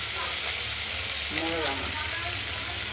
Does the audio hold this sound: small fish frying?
yes